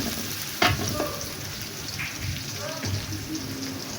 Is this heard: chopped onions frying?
yes